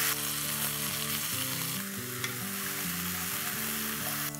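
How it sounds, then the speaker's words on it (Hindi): Urad dal fries in a pan, a bright continuous sizzle with stirring scrapes, alone and steady with no talking. "उड़द की दाल, इसे थोड़ी देर तक फ्राई कर लेते हैं"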